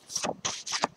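Blu-ray edition lobby cards are handled up close in three quick papery rustles and flicks within about a second, faint and with no talking.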